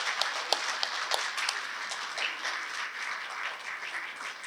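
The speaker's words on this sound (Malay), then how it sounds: "Tepukan mereka." Audience applause at a graduation ceremony, a moderate wash of many hands clapping with a few crisp nearby claps popping out, steady throughout and fairly distant in the hall.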